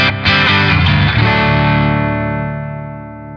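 Electric guitar through an overdrive pedal with the volume at 10, a loud driven chord strummed twice in quick succession and then left to ring, its rich gritty harmonics slowly fading away.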